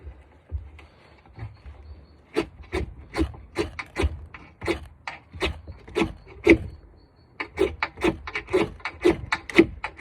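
A magnesium fire-starter rod is scraped outdoors in repeated sharp rasping strokes, close and crisp, coming in quick bursts with brief pauses between groups.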